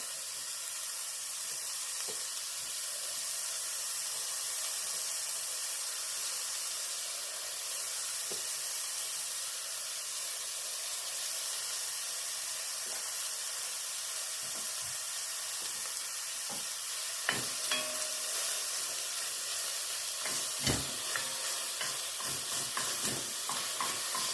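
Beef for bœuf bourguignon fries in a pan with a continuous close sizzle and hiss, and scattered stirring clicks and scrapes grow busier toward the end; no one speaks.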